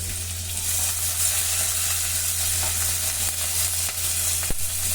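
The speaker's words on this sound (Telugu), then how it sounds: "మొత్తాన్ని కలర్ చేంజ్ అయ్యే వరకు కూడా వేయించుకోండి" Onion, green chilli and curry leaves fry in oil with a steady close crackling sizzle and an occasional scrape or tap of a utensil, alongside a constant low hum and no voices.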